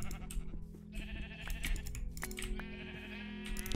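Sheep in the Minecraft video game bleat in short bursts amid busy game sounds and rapid clicking like keyboard typing, layered over steady background music.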